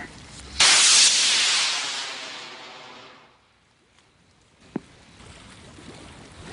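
An amateur student-team rocket ignites at a launch event with a sudden loud roaring hiss that fades steadily over a few seconds as it climbs away, leaving quiet outdoor ambience and a single sharp click.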